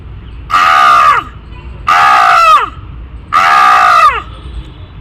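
A human voice imitates a crow, giving three loud, harsh caws separated by short pauses.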